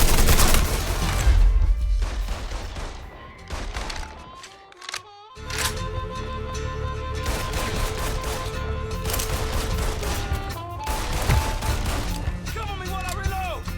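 Dense bursts of gunfire ring out in Mafia III, rapid shots and fusillades loud and close over a music score, with a brief lull midway before firing resumes.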